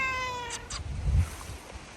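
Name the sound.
cat meowing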